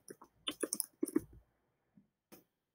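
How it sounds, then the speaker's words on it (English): Mouse clicking at a computer, a cluster of quick close clicks followed by two faint isolated clicks in a quiet room. "Double click in the text box"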